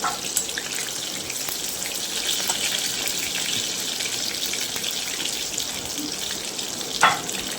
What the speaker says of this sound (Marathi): बाकीचे पण बोंबील अशाच प्रकारे मी क्रिस्पी होईपर्यंत फ्राय करून घेणार आहे